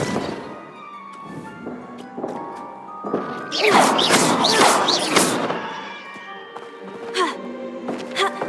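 In Hogwarts Legacy a Repulso spell goes off as a burst of whooshing, crashing force lasting a little over a second, set among thuds and clattering game effects.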